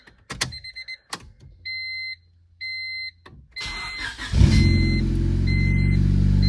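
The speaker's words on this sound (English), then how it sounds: "Love that classic Honda sound." A Honda Civic engine cranks with a few clicks and chimes, then catches and settles into a steady, loud idle.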